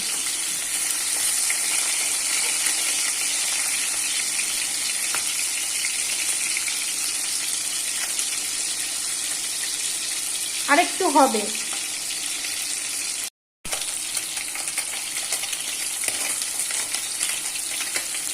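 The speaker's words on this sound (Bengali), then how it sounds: "এক পিঠটা ভাজা হয়েছে, এবার আস্তে করে উল্টে দেব।" Small fish sizzle steadily in hot oil in a wok, a continuous crackling hiss, broken midway by a short spoken remark and a few light scraping clicks as the pieces are checked for turning.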